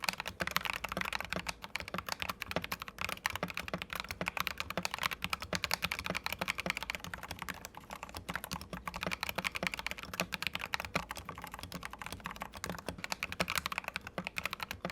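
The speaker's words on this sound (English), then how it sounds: "let's listen to the stock V84 with some non-muffled switches, namely stock Akko Radiant Reds." Steady, rapid clacking of a mechanical keyboard, a Vissles V84 with stock Akko Radiant Red switches, unmuffled, keys striking in a dense continuous rhythm, close and fairly quiet with no voices.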